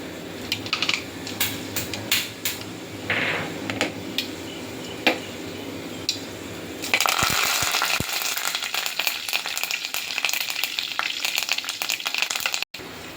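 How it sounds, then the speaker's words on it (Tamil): Mustard seeds tipped into hot oil: scattered ticks and clinks at first, then from midway a dense, loud crackling sizzle of seeds frying and popping, close up with no voices. "இதில் இப்போ கடுகு போட போகிறேன்."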